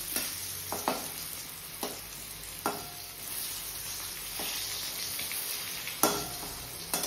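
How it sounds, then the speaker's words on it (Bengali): Potatoes sizzle steadily in hot oil with whole tempering spices in a pan, with a few sharp scraping stirs of a spatula breaking through the continuous frying hiss. "এখানে ফোড়ন দিয়ে আলুটাকে দিয়ে দিয়েছি"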